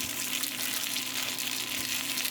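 Wide rice noodles for pad see ew sizzle and fry in a hot pan with a soy sauce mix, a steady close crackling hiss that holds through the whole stretch without any talk.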